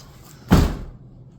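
A door in the foyer of a historic house gives a single short thud as it moves, heard at moderate distance against a quiet room.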